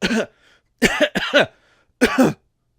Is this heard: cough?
yes